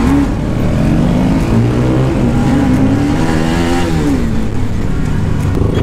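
Motorcycles on a fast group ride, including a Benelli TNT 600i, Duke 250, CBR 250 and NS 200, rev loudly and continuously, with engine pitch rising and falling in a close, dense roar.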